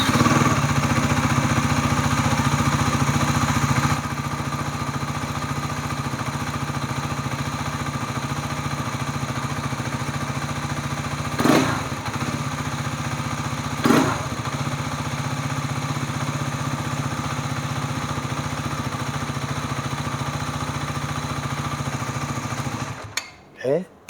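A motorcycle engine idles steadily and evenly throughout during an oil change, with a couple of brief clicks midway and a clatter at the very end.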